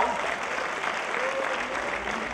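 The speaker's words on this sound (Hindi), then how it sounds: "तालियां तालियां तालियां।" An audience at a Basanti Chola Diwas celebration gives steady, continuous applause from many hands, forming a dense wash of clapping without speech.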